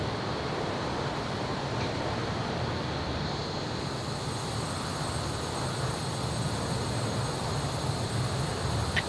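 Eurofighter Typhoon jets in Microsoft Flight Simulator 2020 produce a steady, loud, broadband engine roar that holds constant throughout, with a faint high whine above it.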